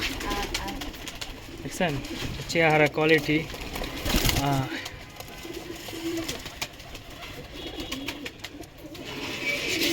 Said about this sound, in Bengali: আমার এটা খুব ভালো একটা কবুতর